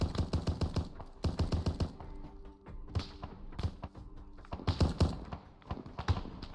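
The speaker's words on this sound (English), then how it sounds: "Gunfire erupted as incoming rounds struck the ground close to our position." Gunfire in the video game Arma 3 during a camp infiltration, with quick rhythmic bursts of sharp thudding shots in clusters separated by short pauses, fairly close and loud, with no talking.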